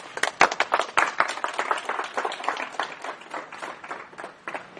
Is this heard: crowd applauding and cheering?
yes